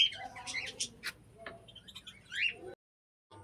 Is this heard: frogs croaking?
no